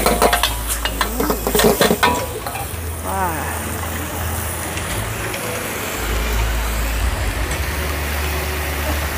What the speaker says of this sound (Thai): น้ำซอสสูตรสำเร็จเขาก็ใส่ไปนะคะต้องใส่ไปที่ขอบกระทะนะคะ